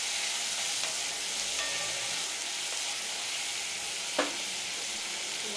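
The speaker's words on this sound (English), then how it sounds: "Then I'll add this onion. So saute this in golden brown in color." Chopped onion sautéing in a pan for keema pav, a steady close frying sizzle and hiss running throughout with a few small pops, no talking.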